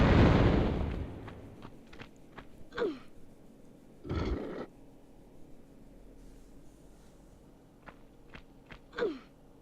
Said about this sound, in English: His explosion almost kills me.